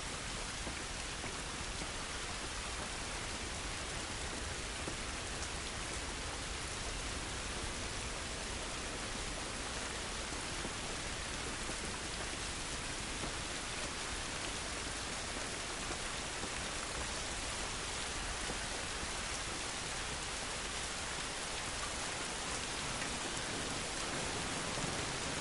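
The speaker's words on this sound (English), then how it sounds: "This rain ain't gonna do us any good." Rain falls outdoors in The Last of Us, a dense, steady hiss of downpour on surfaces that holds evenly loud from start to finish with no voices.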